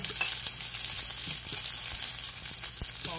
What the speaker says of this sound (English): So let's start to saute.